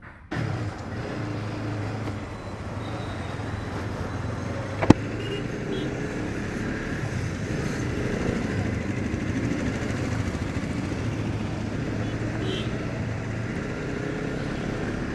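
Motorcycle riding on a road, filmed on a DJI Action 4 camera, giving a steady engine drone mixed with wind rumble throughout, plus one sharp click near the start.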